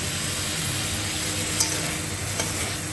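Okra sizzling in hot oil with sesame seeds and ginger, a steady close crackling fry with a faint stirring clatter, no voices.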